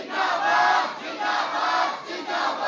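Large crowd at a religious gathering chanting slogans in unison, loud and continuous with swelling, rhythmic waves of voices and no single speaker.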